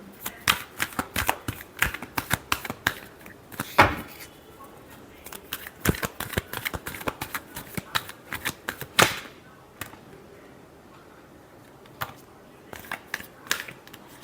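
Tarot cards being shuffled by hand give quick, crisp riffling clatters in uneven bursts with short pauses between, close and fairly loud.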